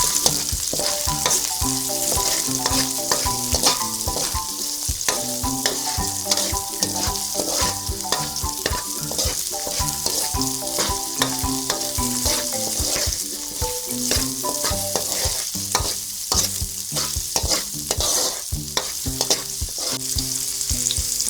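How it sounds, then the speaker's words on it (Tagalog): Red onion and garlic frying in oil for ginisang saluyot make a loud, steady sizzle and crackle up close, with spatula stirring and scraping running throughout and no voices. "Pagkatapos po ay isusunod na po natin yung sibuyas na pula."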